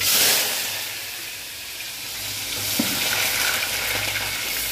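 Bottle gourd curry fries in hot oil with a loud, steady sizzle and hiss that swells and eases slightly, with a faint knock partway through.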